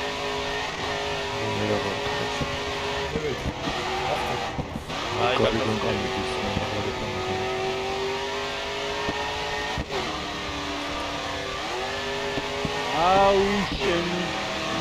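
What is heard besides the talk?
race car engine in video game GRID 2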